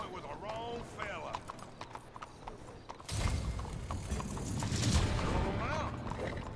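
Horse hooves clip-clop in the Red Dead Redemption 2 video game, rhythmic hoofbeats under people talking, turning heavier and denser halfway through amid a louder game soundscape.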